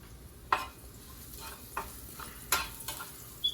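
Seasoning fries in hot oil in a pan for a burrito omelet, a soft sizzle under scattered scrapes and taps of a utensil stirring, close by, with no talking.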